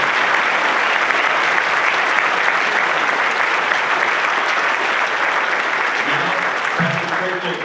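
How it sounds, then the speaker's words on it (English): Sustained, loud audience applause at a town presentation fills the whole stretch, a dense wash of many hands clapping steadily and fading slightly near the end. "Give him a big round of applause."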